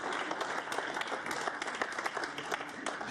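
Dense applause from a snooker crowd, steady and moderately distant, clapping continuing without a break.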